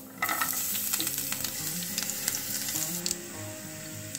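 Chopped garlic cloves, mustard seeds and cumin sizzle in hot oil for a tomato chutney, a loud, steady close-up frying hiss with small crackles and spatters throughout and no voices.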